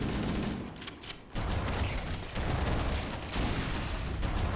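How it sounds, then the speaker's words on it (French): Chaotic gunfire from many weapons in Halo CE, a dense, loud, continuous barrage of overlapping shots and blasts with only brief dips, no voices. "ça explose dans tous les sens, ça me tire avec toutes sortes d'armes"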